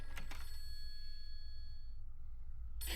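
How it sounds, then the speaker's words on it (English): A telephone rings in the survival horror game Fatal Frame III: The Tormented on PS2, thin steady bell-like tones sounding faint and distant under a low background hum before a brief louder burst at the end. "You can hear the phone very well, even as the audio is low."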